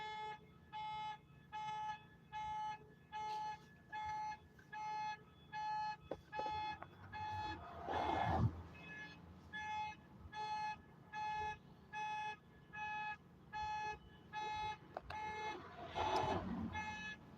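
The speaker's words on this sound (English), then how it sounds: "he's driving with his alarm going off" A car alarm wails from a moving car, its pulsing tones repeating in a steady on-off rhythm for many cycles, fairly faint and distant, with brief road noise swelling beneath it twice.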